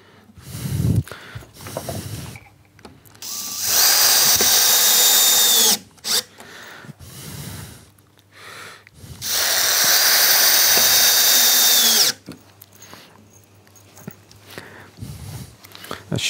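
A power drill drives round pan head screws into wood while building a wooden boot rack, with two sustained whirring bursts of several seconds each, separated by quieter handling noises and brief pauses.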